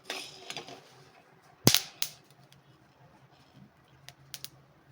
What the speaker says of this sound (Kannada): ಮೆಣಸು ಕೂಡ ಸಿಡಿತಾ ಇದೆ ನೋಡಿ